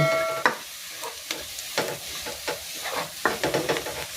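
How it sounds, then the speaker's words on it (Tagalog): Garlic and onion sizzling in a pan while being sautéed for chicken sotanghon soup, a steady soft crackle with scattered scrapes and clinks of a stirring utensil. "gusto ko medyo tostado yung bawang sibuyas para mabango yung sabaw"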